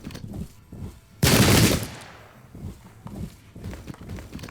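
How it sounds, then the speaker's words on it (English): A musket volley from the Battle of Dunbar, 1650, in Pike and Shot Campaigns: one loud, sudden crack of massed fire that fades away, framed by quieter scattered clatter before and after. "Some reactionary fire"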